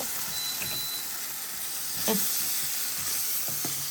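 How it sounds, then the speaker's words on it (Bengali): Chepa shutki, dried fish, fries in a hot pan with a steady, loud hiss and crackle, a few sharper pops standing out near the middle. "চাপা শুটকি দিই এটা একটু ভাজি হইল"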